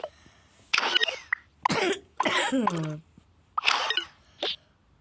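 Several harsh coughs and throat-clearing bursts come close and loud, separated by short pauses, with one drawn-out raspy cough in the middle.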